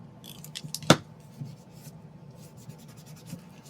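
A correction pen whites out a line on paper with quick, soft scratchy strokes, close and quiet, broken early by one sharp click.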